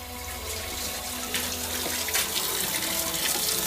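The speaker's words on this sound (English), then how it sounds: "Always wash your hands." Running tap water splashing over hands at a sink, a steady close rush of water with shifting splashes as the hands move beneath the stream, no talking.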